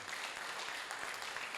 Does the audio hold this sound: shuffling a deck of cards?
no